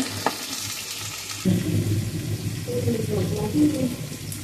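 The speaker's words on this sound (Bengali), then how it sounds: "বেগুন আলুগুলো একটু ভাজা ভাজা করা হচ্ছে" Eggplant and potato pieces fry with black cumin in a pan, a soft steady sizzle that grows fuller partway through, with a quiet voice in the background.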